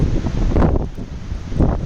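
Strong gusts of wind on the top of Chandranath hill buffeting the microphone, a deep roaring rumble that surges, eases briefly, then swells again.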